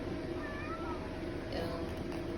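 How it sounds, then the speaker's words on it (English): A big neighborhood cat meows faintly a couple of times over steady background hum, with household voices nearby. "Who's that cat?"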